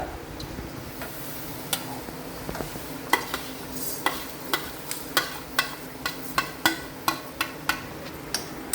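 Cumin and whole spices dry roasting in a pan, a steady series of sharp ticks and light crackles, many spaced about half a second apart, close and fairly quiet over a low background hum.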